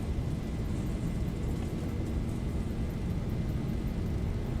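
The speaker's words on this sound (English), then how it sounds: "Takeoff thrust set." Boeing 737 engines at takeoff thrust roar in a steady, dense broadband rumble with a faint high whine, continuous and loud throughout, in a flight simulator.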